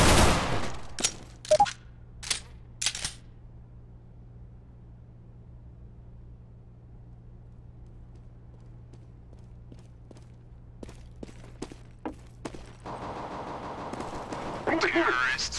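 In Counter-Strike, a thrown decoy grenade fires off several sharp bursts of fake gunfire at the start, then quieter scattered clicks and footsteps follow before a louder burst of game noise at the end.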